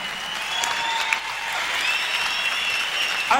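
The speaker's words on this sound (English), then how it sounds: "big round of applause for both fighters for a fantastic bout" Applause for both fighters after a bout, steady crowd clapping at a distance, even and sustained throughout.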